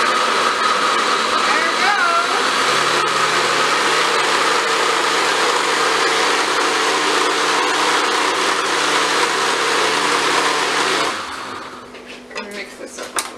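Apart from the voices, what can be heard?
blender blending carrot juice with ginger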